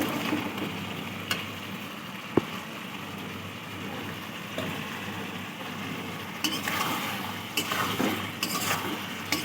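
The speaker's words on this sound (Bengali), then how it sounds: "আর আলু দিয়ে দেবো ভেজে রাখা" Pre-fried potatoes go into a pan of cooked masala for a Bengali katla fish curry, giving a steady close sizzle of frying with scattered clinks and scrapes of a spoon against the pan.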